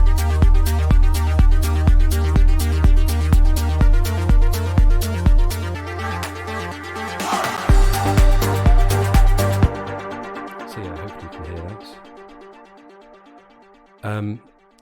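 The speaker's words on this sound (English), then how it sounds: "And then we've also got on there this reverb effect." A pulsing melodic house synth track made in Ableton, with a steady thumping beat and sustained chords, fades into a long reverberant wash, ending with a brief final burst.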